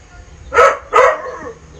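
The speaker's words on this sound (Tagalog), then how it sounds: "Hingin ng aso namin." A pet dog barks twice in quick succession at close range, begging for food in a home kitchen while chicken tinola cooks, followed by a soft whine.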